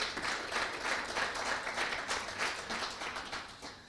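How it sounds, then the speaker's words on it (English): A crowd at the Bank of Ireland Dr McKenna Cup draw gives a warm round of applause, a dense, continuous patter of many hands clapping at moderate volume that tapers slightly toward the end, with no talk over it. "So give them a nice round of applause,"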